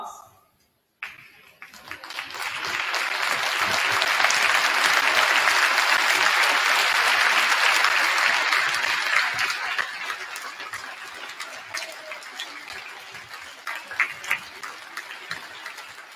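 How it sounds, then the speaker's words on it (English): Sustained audience applause fills a school gym as veterans are honored, rising quickly after a brief pause to a loud, dense wash of clapping that holds for several seconds before thinning into scattered claps. "please stand and remain standing as we thank you for your service with a round of applause"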